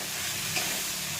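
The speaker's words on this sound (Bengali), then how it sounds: "মটরটা দিয়ে একটু নাড়াচাড়া করতে হবে" Peas being stirred into a pan while cooking ghugni, a soft continuous frying sizzle with a faint scrape of stirring, steady and close throughout.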